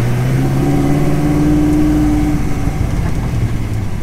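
Ford GT40 driving out of a housing estate, a steady close engine drone with low humming tones and slight revving throughout, no talking.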